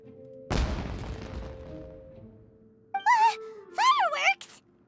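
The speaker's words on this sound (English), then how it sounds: "Was that an explosion? It sounded like fireworks." Firework explosions in the video game Genshin Impact: one sharp burst with a decaying crackle near the start, over a low ambient drone, followed later by character voices speaking.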